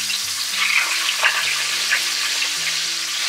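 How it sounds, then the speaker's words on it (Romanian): Turkey drumsticks frying in hot oil in a home kitchen, a steady close sizzle and crackle of spattering fat running throughout, with faint low clatter underneath and no voices. "uleiuțul nostru și punem pulpițele la prăjit"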